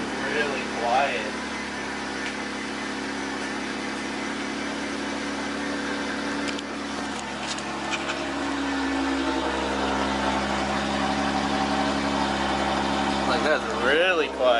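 A Jeep JK engine with a new muffler idles steadily nearby with a low, even rumble, a brief voice or two briefly rising over it.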